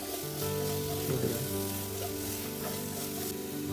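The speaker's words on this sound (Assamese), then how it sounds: "মই আচলতে আজি মাংসৰ তেলত মাংস ভাজিছোঁ।" Chicken meat frying in its own fat with salt, a steady close crackling sizzle with a brief stir midway and no talking.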